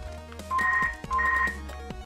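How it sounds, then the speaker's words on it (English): A mobile phone rings out in two clear bursts of a repeating electronic ringtone, fairly loud and close, over steady game music in the background. "Oh, my phone's going off. Phone ringing."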